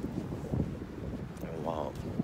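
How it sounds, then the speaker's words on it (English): Cold wind blowing outdoors, a steady rough rush buffeting the microphone throughout, with a brief voice-like sound partway through. "this wind don't make it any better"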